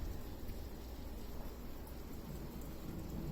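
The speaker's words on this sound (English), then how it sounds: "It's raining pretty hard right now." Heavy rain pouring steadily outdoors, a dense, even hiss of falling water with no pauses and no voices.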